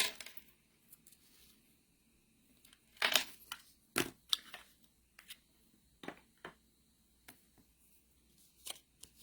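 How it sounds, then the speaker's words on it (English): Scissors cutting a strip of faux suede trim for a steampunk-style handmade card: a quiet run of short, crisp snips and paper-like rustles in an irregular rhythm, close up in a still room. "I'm just gonna cut a piece to go across."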